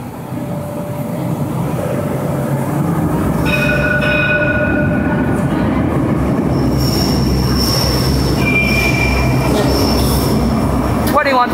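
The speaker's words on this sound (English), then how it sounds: "we have a Herbal Street Tram approaching platform number 2." A Herbal Street light rail tram pulls up to platform 2, its steady rumble joined by high, drawn-out wheel squeals that rise and hold for several seconds, loud and close throughout.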